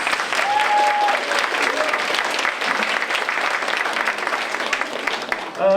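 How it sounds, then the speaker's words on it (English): An audience at a school creative arts evening claps in a full, steady burst of applause with a brief whistle near the start, fading slightly before a voice cuts in at the very end. "Can we give him a quick round of applause?"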